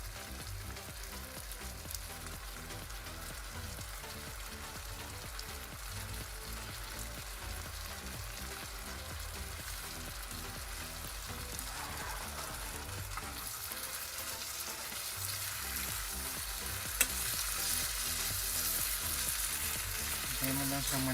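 Pasta frying in a pan for a Charlie Chan-style dish, with a steady, close sizzle and repeated stirring scrapes running throughout, no voices heard.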